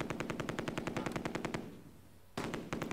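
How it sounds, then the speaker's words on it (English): Exchange of machine gun fire in Close Combat, a German MG42 answered by a British Vickers: steady rapid automatic fire, a brief lull, then another loud burst resumes. "The Sturmgrenadier opens up with an MG42. It receives counterfire from the Vickers."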